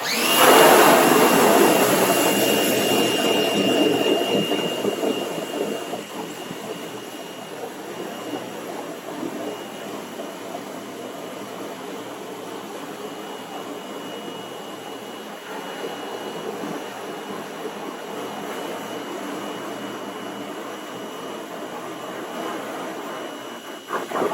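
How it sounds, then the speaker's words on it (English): A pressure washer rinses out an exposed screen-printing screen, producing a loud, steady roaring hiss that is strongest at the start and then holds at a slightly lower level throughout, with no talk. "Now I am going to hit it with the pressure washer."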